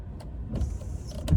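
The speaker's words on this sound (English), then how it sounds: "windshield wipers, and then high beams" Windshield wipers on a 2019 Ford F-150 XLT V8 giving a short motorized whir and sweep inside the cab, close and moderately loud, heard alone.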